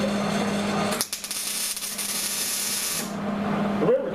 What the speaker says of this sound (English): look at what you're welding. It's just tacked in place